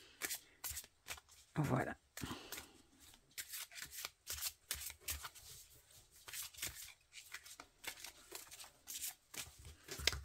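Oracle cards and small butterfly-themed cards being shuffled by hand in repeated quick riffling bursts, close and crisp, with someone speaking French briefly between shuffles.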